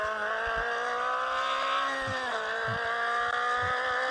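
A car engine in a driving video game hums with a steady, droning tone that rises and dips slightly as it revs, accompanied by a few soft thumps, with no talking.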